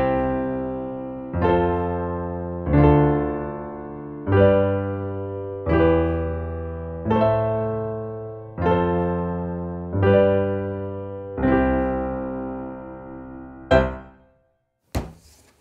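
A simple chord progression on a keyboard: six sustained chords struck one after another, each decaying for about a second and a half, played alone, followed by a brief sharp knock at the end.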